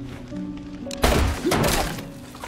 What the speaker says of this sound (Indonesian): Namun letnan itu nggak percaya dan dia menembakkan pistolnya ke bawah.